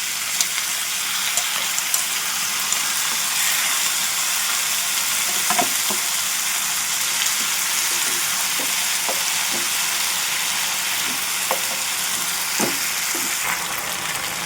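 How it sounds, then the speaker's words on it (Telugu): Chopped tomato pieces for a tomato and peanut masala curry fry in a pan, giving a continuous loud sizzle with scattered crackles and stirring taps throughout, and nobody speaking. "ఇప్పుడు తరిగి పెట్టుకున్న టమాటా ముక్కలు వేసుకున్నాను."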